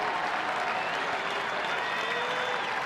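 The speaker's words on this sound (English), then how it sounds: "Crowd starting to get into it here in Baltimore." A baseball crowd at the Baltimore ballpark applauds and cheers in a steady, dense wash of clapping and voices, heard from a distance without letup throughout.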